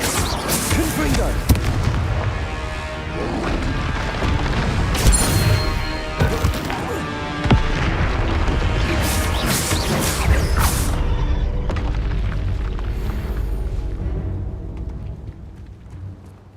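Confringo blasting spell explosions in Hogwarts Legacy, with a series of loud booming blasts and crackling bursts over busy combat effects that fade out toward the end.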